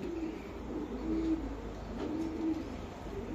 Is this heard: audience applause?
no